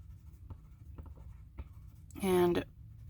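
Colored pencil scratching lightly across paper to add a hint of color over an inked stamped branch: soft, sparse strokes, with a brief tonal hum near the end.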